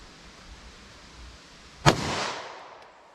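A single sharp 9mm +P Liberty Civil Defense pistol shot cracks out from a 5-inch barrel on an outdoor range, one loud report with a brief fading tail after a quiet lead-in.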